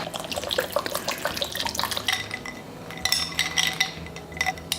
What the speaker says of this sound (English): And coconut water.